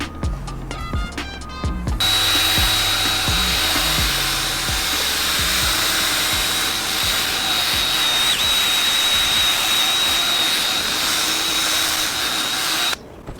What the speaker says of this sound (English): Gonna do some sanding and some buffing